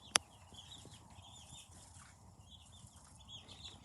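Pasture-raised meat roosters cluck softly in the distance in a faint, scattered chorus outdoors, with one sharp click at the start.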